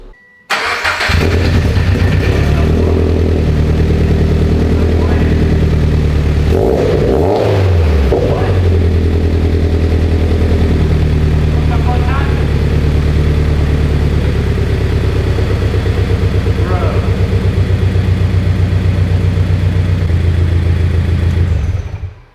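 A Scion FR-S with a newly installed exhaust cranks and starts, then idles and revs steadily close by, its fairly mild exhaust note droning for the whole stretch before cutting off at the end.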